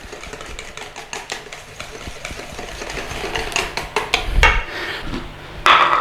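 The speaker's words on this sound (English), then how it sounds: "we're going to give that a whisk in" A whisk beats olive oil dressing for a Caesar salad in a bowl, with rapid, busy metallic scraping and clicking up close, growing louder and denser toward the end.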